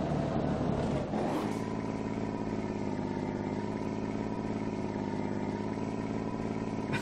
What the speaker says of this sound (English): It's like the RPMs go up, one go down, it goes down and up